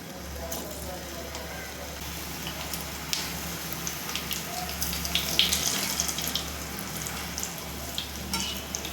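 Raw banana kofta balls fry in oil with a soft, steady bubbling hiss under a low background hum, quiet and continuous, with a few faint clinks.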